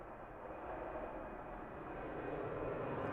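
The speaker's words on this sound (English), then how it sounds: "Full noise from Boeing, eh?" Boeing airliner jet engines running at full power on a takeoff roll at Christchurch Airport, a loud, steady broadband roar that holds and swells slightly over three seconds with no talking.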